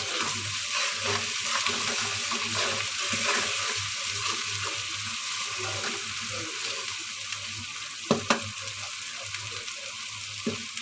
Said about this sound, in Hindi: ये मैंने नमक मिर्च हल्दी डाल दी है इसमें। उसको थोड़ा सा भून लेंगे